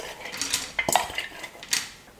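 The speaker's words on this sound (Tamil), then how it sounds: "கடலைப்பருப்பை தண்ணியில் நல்லா அலசி எடுத்ததுக்கப்புறமா ஒரு குக்கரில் சேர்த்துக்கிறேன்" Chana dal is added into a pressure cooker in a home kitchen, heard as a few light metallic clinks and scrapes of a ladle or vessel against the cooker, close but fairly quiet.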